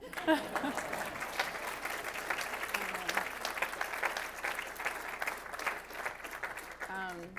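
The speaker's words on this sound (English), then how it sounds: "you can clap if you want" A crowd at a conference presentation applauds steadily throughout, dense clapping filling the room, with some voices mixed in near the end.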